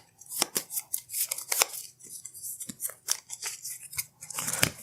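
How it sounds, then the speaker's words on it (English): A deck of cards being shuffled at close range during a tabletop deck-building game, with quick rattling riffles and crisp flicks coming in bursts, loud and alone with no talk. "I'm going to go ahead and shuffle up the cards real quick"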